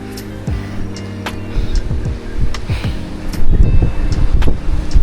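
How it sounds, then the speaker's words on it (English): Gusty wind on a hilltop buffeting the microphone in low rumbling blasts, loud and close, growing stronger toward the end. "It's windy and nice up here."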